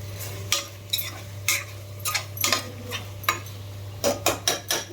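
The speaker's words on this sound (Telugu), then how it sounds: "కింద నుంచి ఒకసారి బాగా కలుపుకుందాము." A spoon scrapes and clatters through tomato rice in a pan, giving a series of irregular metallic stirring strokes. A steady low hum sits underneath, and the strokes come in a quick burst near the end.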